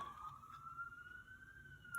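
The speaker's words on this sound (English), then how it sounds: "Sorry for the sirens." A wailing emergency siren, likely a police car, passes outside: one steady rising tone sweeps slowly upward across two seconds at moderate distance, with no talk over it.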